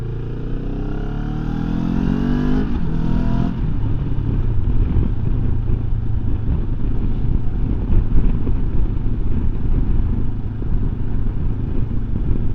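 A 2024 Benelli 702 low-seat motorcycle engine hums steadily in third gear at about 30 mph around a roundabout, with a brief rising rev early on and strong gusting wind buffeting throughout, close and loud.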